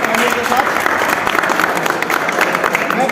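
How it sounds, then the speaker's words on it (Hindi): Students at a school gathering applaud the principal loudly, a dense, continuous wash of many hands clapping at once with steady volume throughout, crowd murmur blended in. "उनका अभिनंदन करें जोरदार तालियों के साथ"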